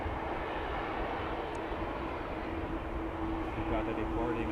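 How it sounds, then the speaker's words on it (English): An EasyJet Airbus A320 departing from Amsterdam Schiphol Airport, heard as a steady, broad jet engine roar that holds level throughout, with a faint tonal whine emerging toward the end. "got a departing A321. I think A320 from EasyJet."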